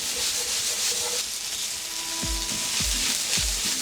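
Onions sizzle and crackle steadily in a hot pan on low heat, caramelizing for goulash stew, with a few low scraping knocks from a utensil stirring them near the end.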